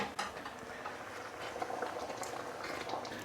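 Keema aloo curry of minced meat, potatoes and water bubbles in a pot on high heat, with continuous soft popping and fizzing at a low level close by.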